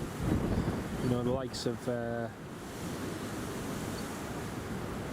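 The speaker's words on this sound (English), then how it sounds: "the wind's so strong anyway" Strong wind during Storm Isha at Newcastle Airport roars as a steady broadband rush across the whole clip, with someone talking briefly over it near the start.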